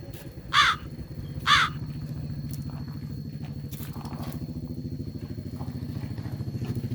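A baby bird fallen from its nest gives two loud, harsh calls close by, then fainter chirps follow over a steady low mechanical rumble.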